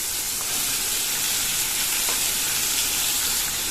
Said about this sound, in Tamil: ஒரு கொத்து கருவேப்பிலை சேர்த்து நல்லா வதக்கிக்கணும்.